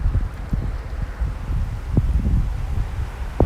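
Wind gusting outdoors among trees on a cold day in Japan, a steady low rumble with buffeting on the microphone and occasional sharper thumps, continuous throughout with no talking.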